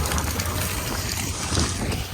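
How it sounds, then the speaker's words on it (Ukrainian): A tractor pulling a roller works a field during winter crop sowing. It gives a steady, close, loud engine rumble with rattling mechanical noise throughout. "Трактор це на 60-70."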